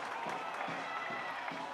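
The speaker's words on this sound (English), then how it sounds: "Sacramento, the crowd starting to get into it" Stadium crowd at a Sacramento Republic FC soccer match against San Antonio FC, a steady dense roar of cheering and chatter with faint rhythmic swells, heard from within the stands.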